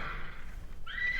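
A horse whinnies from a clip played back at a live coding event, a loud, wavering neigh that holds steady for about a second before climbing higher at the end.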